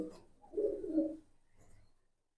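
A pankhi pigeon gives a soft, low coo close by, one rolling phrase followed by a fainter second murmur.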